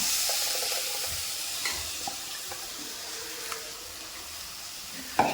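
Ground tomato paste is poured into frying masala for a bitter gourd curry, a steady soft sizzle and hiss with occasional faint clinks and a sharper tap at the end.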